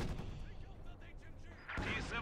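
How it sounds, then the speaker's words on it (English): Artillery explosions boom in the Company of Heroes 2 strategy game, in an OKW versus Soviet match. Dense, rumbling blasts overlap continuously, and a sharper, louder burst lands near the end. "A lot of explosions all over the place."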